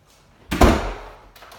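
A door is shut, giving a single solid thunk with a short rattling decay, followed by a faint click as it is locked; no talking.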